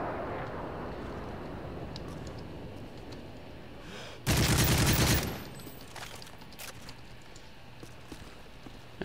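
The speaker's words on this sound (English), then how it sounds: "I shot you with the whole mag!" Gunfire in Modern Warfare 3, a single loud sustained burst of automatic fire lasting about a second, standing out over a low, steady game background.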